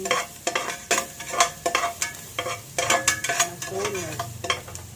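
Ginger and garlic sautéing in a pan for chicken feet adobo, with steady sizzling broken by repeated scraping stirs of a utensil against the metal, fairly close and busy throughout.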